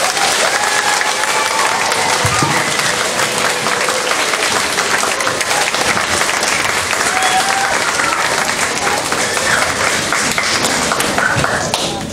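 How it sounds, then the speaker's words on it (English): A big audience at the SaskEnergy Willow Awards Gala breaks into loud, sustained applause, a dense wash of clapping that holds steady without letting up. "So perhaps we can give them just a really big round of applause"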